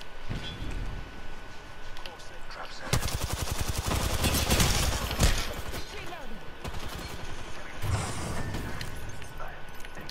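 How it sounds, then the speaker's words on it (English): Gunfire in a video game: rapid bursts of shots and a dense, loud barrage in the middle, over constant in-game noise. "Being shot again."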